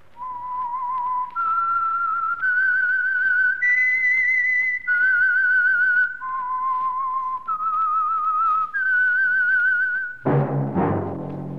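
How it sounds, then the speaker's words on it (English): A lone whistled melody, the theme of The Whistler radio mystery, rises and falls in clear sustained notes, close and alone, ending with a sudden burst of orchestral music. "That whistle is your signal for the Signal Oil Program, The Whistler."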